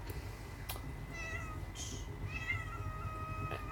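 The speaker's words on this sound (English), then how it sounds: "And that is my cat, Patience, meowing and meowing and meowing, as per usual" A house cat meows over and over, a string of clear, drawn-out calls at close range, alone with no talk over a low background hum.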